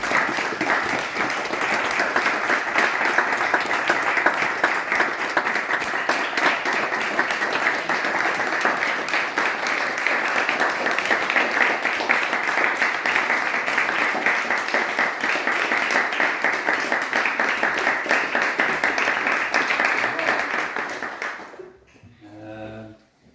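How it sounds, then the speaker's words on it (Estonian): An audience claps steadily in Nõva church at a birthday celebration, a dense, sustained round of applause lasting about twenty seconds before tapering off abruptly near the end. "ma arvan, et me võime veel aplausi teha"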